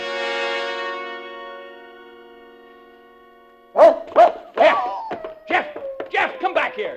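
A dog in an old radio drama gives several sharp barks and yips in quick succession after a sustained organ-like musical chord fades out, close and fairly loud.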